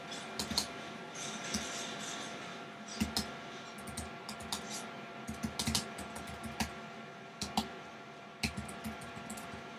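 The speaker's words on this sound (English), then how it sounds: "I will type in my another email of mine" Keys clatter on a Mac keyboard as an email address is typed, irregular light clicks in short clusters with pauses between, close and fairly quiet over faint background hiss.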